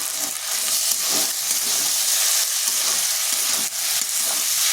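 Sabudana khichdi being stirred in a hot pan after salt, pepper and a spoon of sugar go in, giving a steady, loud sizzle with soft scraping of the spoon throughout.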